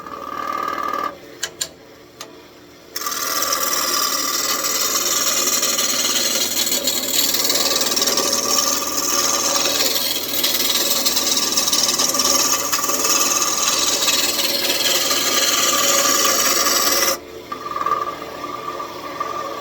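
A walnut wand blank spins on a wood lathe while a tool cuts it, giving a steady, loud scraping rasp that runs almost the whole clip, with a short pause near the start and a drop near the end.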